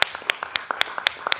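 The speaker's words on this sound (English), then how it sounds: "I think that deserves a round of applause." Scattered, rhythmic hand claps from an audience at a school board of trustees meeting, a quick run of distinct, fairly close claps with no talking.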